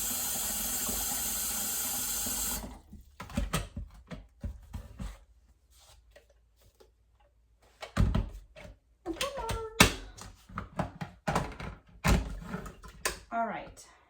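Well water runs from a kitchen tap in a steady rush for about two and a half seconds, then gives way to clattering pot and kitchen handling sounds with brief bursts of activity.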